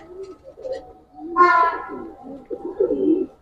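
Pigeons of the Giribaz and coloured breeds coo close by, giving a soft, throaty burbling that rises into one clear, rolling coo near the middle and then settles back into low murmurs.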